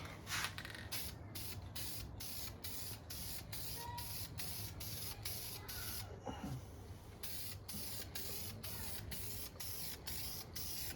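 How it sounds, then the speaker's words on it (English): Clear coat sprayed from an aerosol can onto an RC car body. Close, continuous hiss with rapid regular pulsing and a brief pause partway through. "So now we're going to get the clear coat on."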